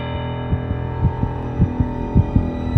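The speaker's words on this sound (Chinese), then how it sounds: "心跳声在水中渐渐地放大" A heartbeat sound effect heard underwater, muffled double thumps beating at a steady rhythm over a low hum, growing gradually louder toward the end.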